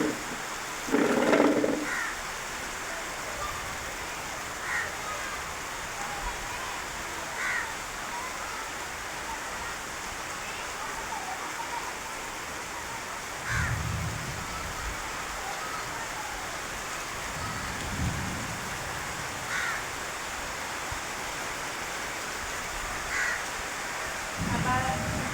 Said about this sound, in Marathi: आणखीन पावसाचा वेग वाढलेला आहे.